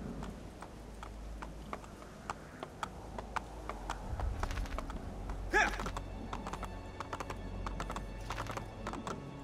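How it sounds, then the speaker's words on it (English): Horse hooves clip-clop at a gallop and trot in the Assassin's Creed II video game, a quick repeating rhythm over a low game soundscape, with a brief louder burst midway. "Gallop and trot."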